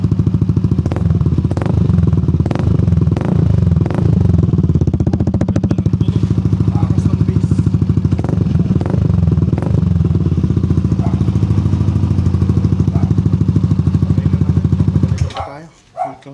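Yamaha NMAX V3 scooter fitted with an RS8 Redlak exhaust, running loud and close with a steady throaty drone and a few sharp blips, cutting off near the end.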